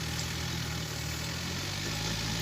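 A tractor engine idles and runs steadily at close range, a low continuous mechanical drone with even vibration throughout and no speech.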